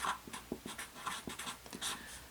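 Pen or marker writing on a board during a physics lesson, faint irregular strokes and taps in short bursts, with no one speaking.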